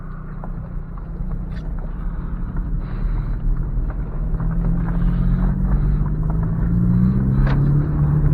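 A 9th-generation Honda Civic Si rumbles steadily from inside the cabin, engine note slowly rising in pitch as it accelerates, with a constant low road drone beneath.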